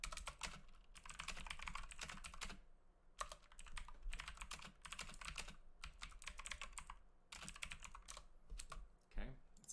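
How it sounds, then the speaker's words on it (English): Close, rapid clicking of keys on a computer keyboard comes in several bursts of typing with brief pauses between them, fairly quiet and with no voices. "Let me just type that out."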